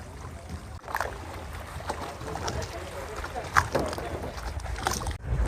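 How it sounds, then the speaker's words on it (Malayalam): A small shikara boat glides across the backwaters at Munroe Island, with steady water wash and wind noise throughout and faint talk mixed in. "ഇതൊരു ചെറിയൊരു ശിക്കാര വള്ളമാണ്"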